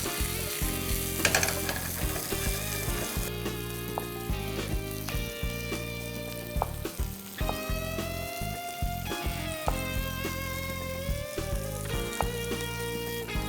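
Vegetables for kadai sabzi sauté in a kadai with a little salt, giving a steady close sizzle that runs throughout, broken by repeated metallic clinks and ringing tones from stirring.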